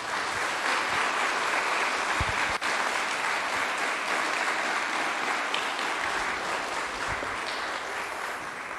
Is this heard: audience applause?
yes